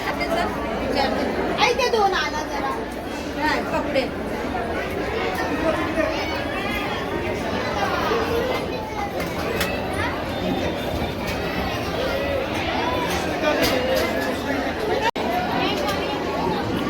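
Dense crowd chatter fills a busy Ganesh temple during Angaraki Sankashti, a continuous babble of many overlapping voices with footsteps and general bustle, and one nearby voice speaks over it.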